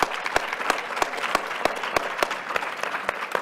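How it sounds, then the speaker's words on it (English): Audience applause for conference organizers at a closing plenary session, a steady crowd clapping with a few sharper, louder claps popping out at regular intervals over the wash. "So a round of applause for these amazing organizers."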